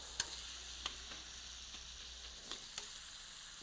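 Scallops frying quietly in a pan give a soft, steady sizzle with a few faint clicks and taps.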